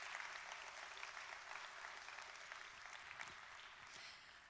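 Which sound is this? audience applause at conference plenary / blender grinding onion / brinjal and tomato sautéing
audience applause at conference plenary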